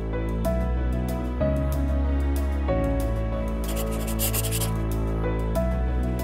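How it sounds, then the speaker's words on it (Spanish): Knife scraping meat from the rib bones of a Galician beef loin, a continuous close rasping and rubbing with repeated strokes, alone over a steady low hum. "Vamos a sacar esta parte de aquí y pelar un poco los huesitos para que quede bonito"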